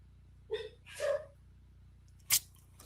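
A person sneezes indoors, with two quick drawn-in vocal bursts followed by one sharp, loud explosive sneeze, close by and otherwise quiet.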